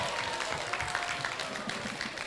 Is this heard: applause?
yes